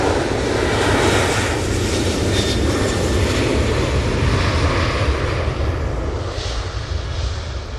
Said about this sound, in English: And that was the Ryanair off to Belfast, using the 737-800 for that flight.